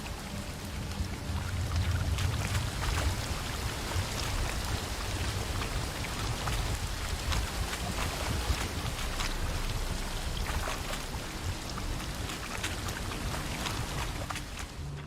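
Rushing water from a waterfall in The Witcher 3, a steady, even wash of splashing and hissing flow that continues without pause.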